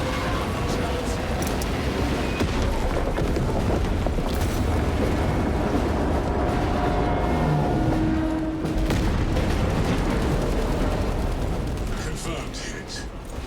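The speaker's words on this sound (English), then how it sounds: "Detonate the charges now." Detonated charges blowing in Warhammer 40,000 Space Marine 2, a dense, sustained rumble of blasts and debris filling the whole span with a brief dip midway, loud and close, mixed with game effects and voices.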